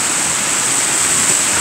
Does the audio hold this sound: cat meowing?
no